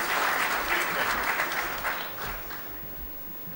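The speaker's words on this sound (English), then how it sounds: "Let's have a huge round of applause" An audience at a freight forwarders' convention valedictory session gives a round of applause, a dense, full clapping sound that starts strong and gradually thins and fades over a few seconds.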